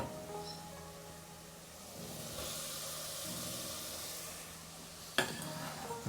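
Vegetables, chard among them, sweat in a hot pan: a steady soft sizzle and hiss with light stirring and a brief clatter of a utensil near the end, no talk.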